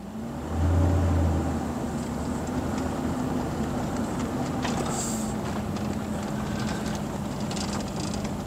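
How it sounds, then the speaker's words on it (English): A 1999 Ford F-150 pickup rolls slowly across a driveway. Its engine gives a low, steady hum with a brief heavier surge near the start, then the drone continues at moderate distance, with no one speaking. "I'm going to go ahead and pull the truck back across the driveway"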